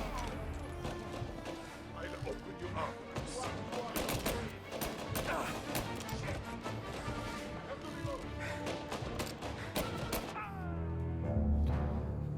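Gunfire in the Mafia video game, with dense bursts of shots and crashes over a busy, noisy game mix that swells louder near the end; a player talks over parts of it.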